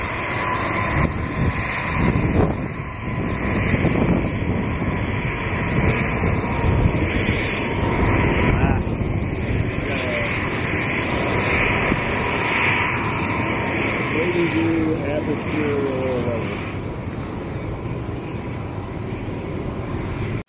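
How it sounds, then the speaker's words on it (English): A Learjet takes off at Columbus Glenn airport, its jet engines building into a loud, sustained roar that holds for about twenty seconds before easing slightly as the aircraft climbs away. "Learjet taking off."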